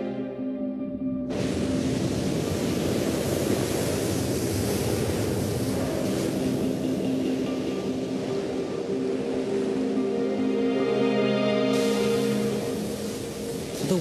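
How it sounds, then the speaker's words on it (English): A massive tsunami more than 13 meters high washing over the Fukushima nuclear power plant, a dense, continuous roar of rushing water that holds steady and loud for many seconds. "A massive tsunami, more than 13 meters high,"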